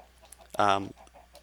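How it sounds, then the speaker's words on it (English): A single short Minecraft chicken cluck, close and clear, stands out against faint background noise. "We got a couple of baby chickens in this cooking chamber."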